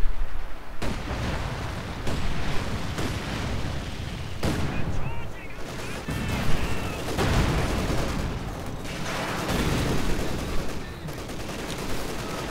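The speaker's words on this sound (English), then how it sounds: "Nothing covering the flank, except an incendiary artillery barrage." Incendiary artillery barrage in a WWII strategy game, a dense rolling stream of booms and crackling gunfire bursts that stays loud and continuous throughout.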